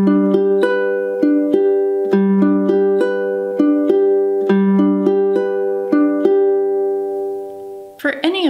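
Ukulele strummed in a steady, repeating rhythmic pattern, chords ringing clearly, ending with a brief voice.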